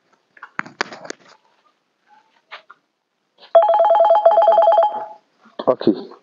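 A telephone rings in a comedy sketch, a loud steady electronic ring lasting about a second and a half, set between bursts of speech before and after it.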